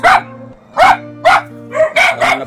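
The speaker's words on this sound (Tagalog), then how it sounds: "Mga aso." Dogs bark repeatedly and loudly close by in a rural forest setting, sharp barks in a quick irregular rhythm, with a steady low hum underneath and no talking.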